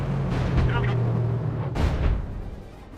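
Artillery shells land in the war strategy game Company of Heroes as two heavy, rumbling booms in close succession. They sound loud and near, with a voice talking over them.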